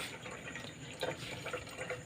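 Tap water pouring into a fish tank for a crowntail betta, a steady splashing trickle with faint bubbling, fairly quiet and alone.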